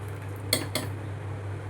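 A spoon stirs yogurt into a thick vegetable gravy: two quick metallic clinks against the pot, near and distinct, over a steady low background hum.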